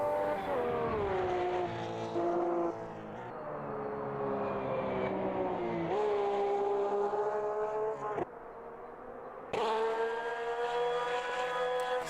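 Porsche GT3 Cup race cars at Oulton Park, engines howling loud and close with steady rising and falling pitch as they accelerate and shift, the sound briefly dropping away before a car surges back in strongly.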